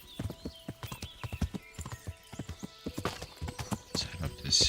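Horse hooves clip-clop at a steady trot while riding in the Kingdom Come: Deliverance game, close and fairly quiet, with a brief whinny near the end.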